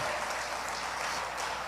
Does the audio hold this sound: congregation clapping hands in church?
yes